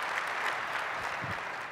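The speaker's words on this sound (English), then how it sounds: "So please give her a big round of applause." A keynote audience at a large technology conference applauds in a brief, dense burst of many hands clapping at once, steady and fairly loud, with a voice faintly heard beneath it.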